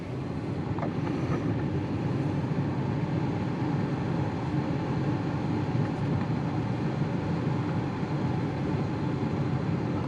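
Rear AC blower fan of a 2017 Ford Expedition pushing air, a steady, broad whooshing roar that holds at the same level throughout, close and continuous with no talk.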